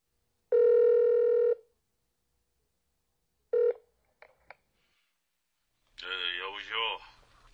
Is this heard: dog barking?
no